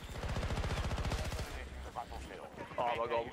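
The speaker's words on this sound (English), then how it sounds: "people shooting at our teammates." Rapid automatic gunfire from a video game rattles in a fast, steady burst, then breaks off into scattered shots and game effects as voices talk over the action.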